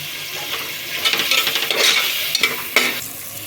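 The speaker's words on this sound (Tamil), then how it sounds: "வெங்காயம் தக்காளியை நல்லா பேஸ்ட் ஆகிற அளவுக்கு வதக்கணும்" Onions and tomatoes sauté in a pan for mutton biryani, giving a steady close sizzle with scraping stirs and a few sharp utensil clinks against the pan, and no talk over it.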